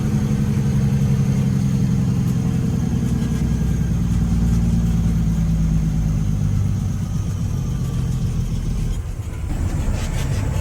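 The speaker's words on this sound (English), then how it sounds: "The truck runs like a freaking monster, man." A truck engine idles loud and close with a deep, steady rumble and a rhythmic chug, holding even for most of the stretch before dipping slightly near the end.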